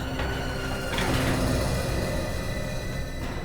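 An elevator sliding door opening, a short mechanical rumble and scrape with a soft thud near the start, heard close and alone with steady background hum.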